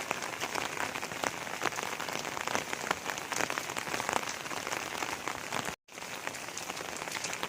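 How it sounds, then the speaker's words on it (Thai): Rain comes down on an umbrella during an outing in Thailand, a dense, steady patter of close drops that cuts out for a split second before resuming. "เราก็ฝนตกแล้วก็กางร่มถ่ายเอานะคะ"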